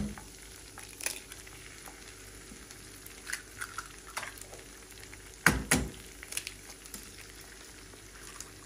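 Eggs fry in tomato paste in a pan, giving a soft, steady sizzle broken by a few light clinks and scrapes of a utensil stirring.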